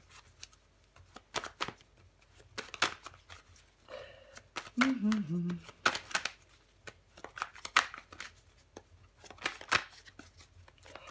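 Tarot cards being handled and laid out, with soft shuffling and quick flicks and taps scattered through the clip, and a person speaking intermittently.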